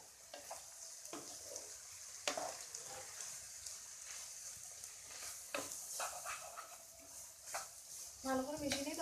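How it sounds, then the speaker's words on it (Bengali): A spatula scrapes and stirs egg chicken chowmein ingredients in a hot frying pan, with steady sizzling and repeated close metallic scrapes, and a dog barking briefly near the end. "এবার আমি সব কিছু ভালো করে মিশিয়ে দেবো।"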